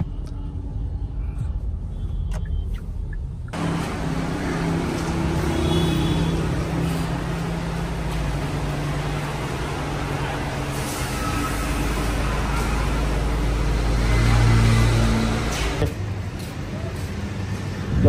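A car drives toward a car wash at a nearby fuel pump, its engine and road rumble steady and close from the cabin for most of the run before dropping away near the end.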